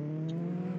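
Video-game car engine droning at a steady, strained pitch while struggling to climb a mountain, a brief loud continuous hum with no talking.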